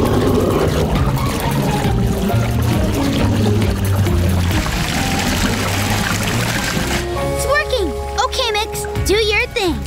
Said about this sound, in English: Let's fill up the tub with water!